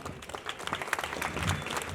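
An audience at an awards ceremony claps steadily throughout, a dense crowd applause that stays fairly even and fills the space without any voices on top.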